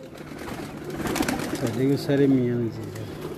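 Pigeons on a rooftop give low, throaty coos that swell and fall over a noisy outdoor background, with a voice talking nearby.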